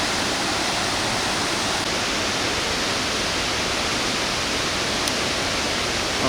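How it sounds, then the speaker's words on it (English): Tayicsua waterfall on the Bolaven Plateau, heard from its base as a loud, steady, unbroken roar of falling water, close and constant with no voices. "down here at the base of this waterfall"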